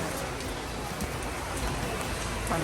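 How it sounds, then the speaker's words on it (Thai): Heavy rain patters on a surface, a dense, even hiss without pauses, on an EMU train between Luang Prabang and Vientiane. "ฝนตกหนัก"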